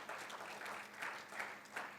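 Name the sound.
congregation applause in church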